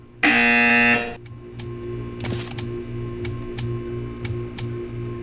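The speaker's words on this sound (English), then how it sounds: "You will hear a buzzer. When you hear the buzzer, stare at the art." A loud, steady electronic buzzer from the video game Portal 2 sounds alone for under a second, then gives way to a low hum with a few sharp ticks.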